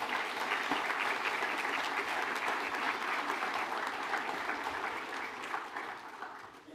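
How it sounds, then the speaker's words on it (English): An audience at a nursing pinning ceremony gives the nursing faculty a sustained round of applause, dense even clapping that holds steady and slowly tapers toward the end. "how about a big round of applause for the group that makes this happen, our wonderful faculty"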